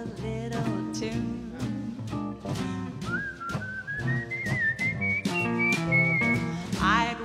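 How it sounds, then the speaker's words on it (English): A melodic whistle rises and wavers over a busy jazz quintet backing with strong low harmonics, steady throughout and fairly loud. "I'd whistle a little tune."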